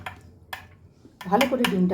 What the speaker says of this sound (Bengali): এবার আমি একটুখানি ফেটিয়ে নিচ্ছি।